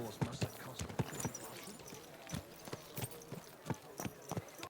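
Horse hooves in the video game Legacy of the Forge, a steady, fairly quiet clip-clop of repeated sharp hoofbeats on a hard surface, evenly paced across the whole stretch.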